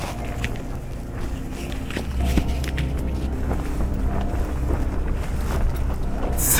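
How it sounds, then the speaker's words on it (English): Strong mountain wind at about 14,000 feet on Mount Kilimanjaro buffeting the microphone, a rumbling roar that builds and swells toward the end. "It's so windy, it's literally shaking the camera."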